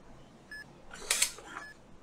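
Mechanical shutter of a film camera tripping at the end of a ten-second self-timer countdown, a soft click burst in a quiet room with faint earlier ticks.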